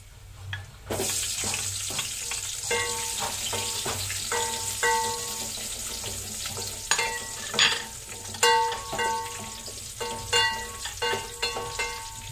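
Chopped onion sizzles steadily in a hot pan for sinigang sa miso, with a run of close spatula scrapes and clicks over the frying and louder stirring bursts toward the end; no one speaks.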